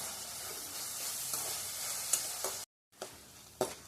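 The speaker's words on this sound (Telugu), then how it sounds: "వేగిపోయినాయండి ఎండు రొయ్యలు" Dried shrimp sizzle steadily in hot oil in a pan, with intermittent scraping clicks from stirring and a brief break in the sound before the frying resumes, close and clear with no talking.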